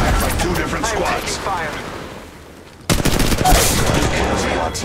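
Rapid automatic gunfire from two enemy squads crackles in Apex Legends Mobile, dense loud bursts that fade briefly, then slam back in sharply and keep rattling, with game voices mixed underneath.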